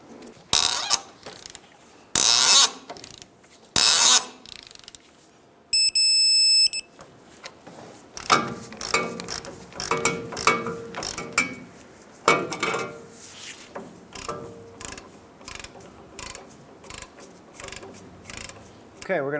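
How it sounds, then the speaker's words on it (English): A torque wrench tightens the inner tie rod on a 1992-1996 Ford F-150 to 35 foot-pounds, giving rapid ratcheting clicks in several bursts, with a brief electronic beep and some metallic handling noises, close up. "We'll torque this down to 35 foot-pounds."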